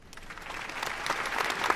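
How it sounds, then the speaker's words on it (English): A canned applause sound effect plays on a podcast: a brief burst of dense clapping that builds slightly and stays fairly soft over just under two seconds, with no talking. "Hold on, I'm late on the applause again."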